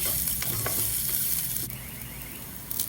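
Small pieces of Kamala orange skin fry in oil with a steady, dense sizzle, a few scraping stirs near the start, then the crackle eases slightly and continues alone.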